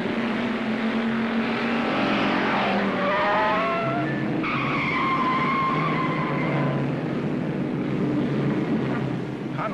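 Race cars roar and skid on a track during a race, with tire squeals and engine whines sweeping past loudly and continuously, a crowd-like wash underneath.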